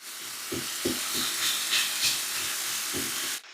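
Steady sizzling hiss of meat frying in a hot pan with garlic powder and black pepper, with soft clicks and taps of stirring underneath.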